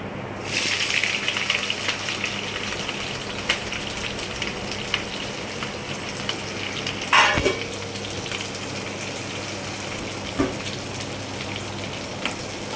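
Green chillies and onion frying in a pan with mustard seeds give a steady, dense sizzle that runs throughout, with a few louder crackles and spatters along the way.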